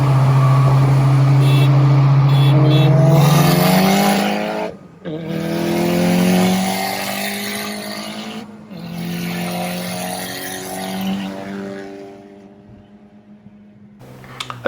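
A turbocharged Honda Civic Si pulls away hard in a race, its engine climbing loudly through the gears with clear drops at each shift. The roar fades as the car moves off into the distance.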